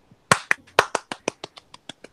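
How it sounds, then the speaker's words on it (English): About a dozen sharp hand claps, close and fairly loud, in a quick, uneven run that thins out toward the end, from a small, casual book club gathering. "A round of applause."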